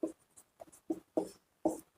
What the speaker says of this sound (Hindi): पहले तो एक्सपेक्टेड कट ऑफ लिख देते हैं आप यहाँ पे